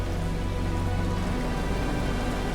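Steady, dense rain pours down in the video game The Caribou Trail, a constant, even hiss of drops with no breaks and no voices.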